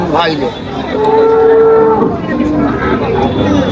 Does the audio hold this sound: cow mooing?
yes